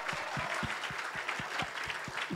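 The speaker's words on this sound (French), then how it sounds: "Beaucoup d'applaudissements pour eux parce que c'est sportif de tenir une émission comme ça" Applause for a live broadcast's control room crew rises in a steady wash of clapping, with sharp low thumps punching through at a fairly regular beat, like hands slapping or stamping near the microphone.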